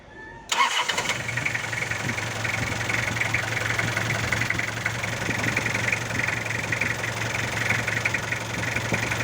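A 1999 Toyota Revo with a 2L diesel engine starts with a brief crank and catch, then settles into a steady, close, rattling diesel idle that continues evenly for several seconds.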